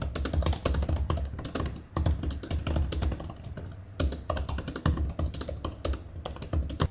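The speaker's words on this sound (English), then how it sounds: "The keyboard is excellent to type on because of those deep keys, it's backlit, and it has a function row, and it even has a nice typing sound." Rapid, steady typing on the Apple keyboard for the M4 iPad Pro, deep backlit keys clicking in quick close-up bursts with a couple of brief pauses.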